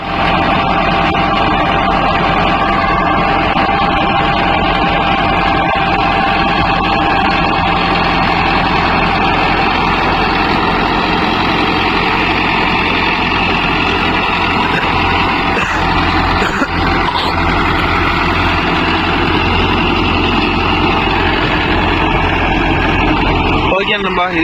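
A Mahindra Arjun Novo 605 DI tractor works a rotavator in a farm field, its heavy diesel engine droning loud and close without a break, with a low rumbling churn steady under it.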